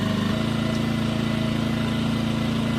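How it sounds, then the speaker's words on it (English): A Champion 2000-watt portable generator runs while warming up after a start, giving a steady, close, even mid-pitched engine hum with a constant rhythmic pulse. "get the engine started and let it warm up"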